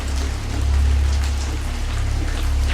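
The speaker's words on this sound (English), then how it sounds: "I'm out in the rain right now." Rain from Hurricane Matthew falls in a dense, close wash of drops with a constant low wind rumble underneath, steady and loud throughout.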